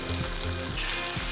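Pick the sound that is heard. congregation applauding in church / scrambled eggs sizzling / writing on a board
scrambled eggs sizzling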